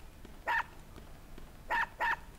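Dog in the video game UnEpic gives three short, sharp barks, one and then a quick pair, close and clear over a quiet background.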